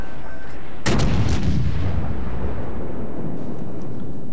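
A battleship's main guns fire in the video game World of Warships: one sudden, loud, booming salvo with a couple of quick follow-up cracks, then a long rumbling decay that fades over several seconds.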